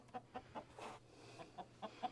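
Several chickens clucking in short separate bursts at about a dozen over two seconds, near and fairly quiet, with a low steady hum underneath.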